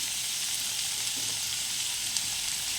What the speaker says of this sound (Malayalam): നമുക്ക് ഈ സബോള ഇട്ട് കൊടുത്തിട്ടുണ്ട് നമുക്കിതൊന്ന് നല്ലോണം വഴറ്റിയിട്ട് വറുത്തെടുക്കാം